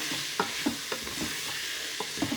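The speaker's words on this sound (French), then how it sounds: "Et on mélange le tout. On mélange bien comme il faut" Beef and onions dusted with cornstarch get stirred in a pot, a spoon scraping through them in repeated soft strokes over a low, steady sizzle, with no talking.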